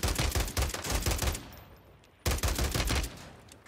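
Automatic fire from an SVA rifle in Warzone 3 on Rebirth Island, loud close bursts of rapid shots, a short pause, then another fast burst that tails off.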